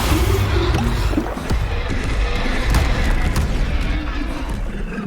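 Hogwarts Legacy's Bombarda explosion spell lands as a pair of dull booming bursts over a rumbling, busy game soundscape, with short thumps cutting through the constant low noise.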